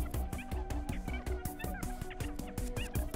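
Birds in the video game A Hat in Time gobble and honk like turkeys, a rapid, loud run of repeated calls layered over a steady rhythmic game music beat with no talking.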